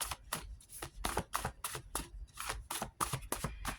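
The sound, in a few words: shuffling a deck of wild cards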